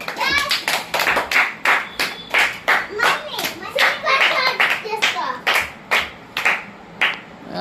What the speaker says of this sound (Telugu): క్లాప్ కొట్టండి అందరూ.